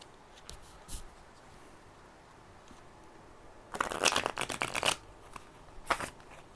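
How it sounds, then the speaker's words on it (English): G.I. Joe deck-building game cards, unsleeved, riffle-shuffled close up, with a faint tap early on, then two bursts of rapid fluttering snaps, the second shorter, with no talking. "shuffle all of the promoted leaders into the library, and we'll shuffle Polly in there as well"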